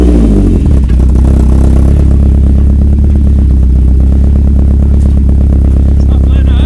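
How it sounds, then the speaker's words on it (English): A BMW E36 race and drift car with a welded differential on a test spin, its engine running loud, close and steady throughout with a constant rumbling drone. "gonna give it a test drive, or a test spin"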